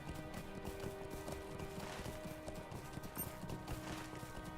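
A horse mount gallops in Lord of the Rings Online, a steady run of clip-clop hoofbeats at moderate volume with faint background game sounds.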